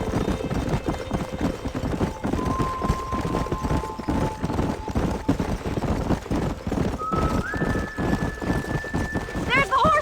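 Horses gallop in the Red Dead Redemption video game, rhythmic hoofbeats pounding steadily throughout, with tonal whinnies and a rising neigh near the end, all under music and occasional voices.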